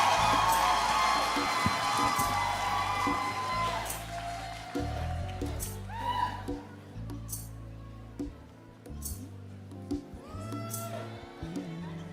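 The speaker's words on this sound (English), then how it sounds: "May I invite a round of applause for all graduates from the College of Humanities, Behavioral and Social Sciences." An audience at a university commencement ceremony applauds and cheers for graduates. Loud, broad crowd noise fills the first few seconds, then thins into scattered shouts and other sounds.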